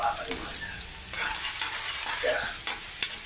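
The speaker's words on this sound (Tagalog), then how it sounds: "Yan, gisa-gisa lang muna tayo guys." Aromatics for chicken pastil sizzle and fry steadily in a hot pan while being stirred, with a few soft scraping touches over a continuous crackling hiss.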